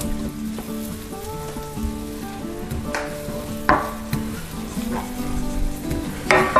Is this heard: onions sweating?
yes